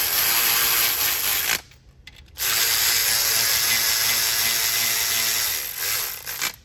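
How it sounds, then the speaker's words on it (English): A 1/4-inch drive ratchet spins rocker arm bolts down on a 3.6 Pentastar engine with rapid, loud, close clicking; there is a short pause, then the clicking resumes steadily. "I'm gonna use my 1/4-inch drive to run them up."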